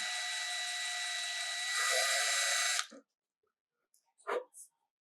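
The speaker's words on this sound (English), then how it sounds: "I'm just letting the weight of the drill do the work" A small drill bores through a handmade jewelry pendant, giving a steady, loud whining drone for nearly three seconds before it cuts off abruptly. A few faint, brief knocks follow in near silence.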